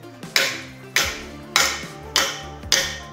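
A 3M anti-fog safety glasses lens made for wear with a mask is struck hard five times in a steady rhythm, each close, sharp crack ringing briefly before the next.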